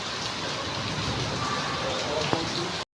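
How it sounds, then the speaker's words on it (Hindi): Heavy monsoon rain pours down as a steady, dense hiss that fills the scene from start to finish, loud and close, with no voices. "ऊपर से इतनी तेज़ बारिश हो रही"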